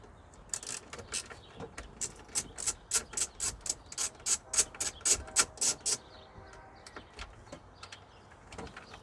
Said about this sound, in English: So you start by taking off these 4 bolts right here.